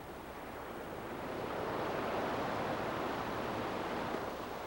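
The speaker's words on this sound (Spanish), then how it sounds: "Aunque el viento aún sopla y la proa del yate parece cortar las olas, es una ilusión." Wind and ocean waves rush against the bow of a yacht out at sea, a broad steady roaring wash that swells slightly and stays constant, with no voices.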